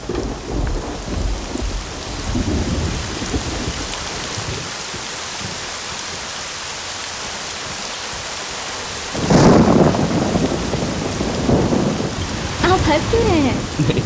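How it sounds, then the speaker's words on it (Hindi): Heavy rain pours steadily while thunder booms and rumbles, rising in a loud crash partway through before the downpour continues, with faint voices briefly under it. "बारिश आ गई"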